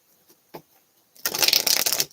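A deck of cards is shuffled up close: two faint taps, then a dense, rapid riffling burst of about a second that ends abruptly.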